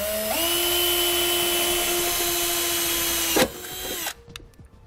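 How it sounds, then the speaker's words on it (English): A small drill bit bores a pilot hole for self-tapping screws while a battery disconnect is installed on a 2017 Chevrolet, the cordless drill whining loud and steady before briefly dipping, then spinning down and stopping near the end. "Now I'll take a small drill bit, go where we marked, and make a pilot hole."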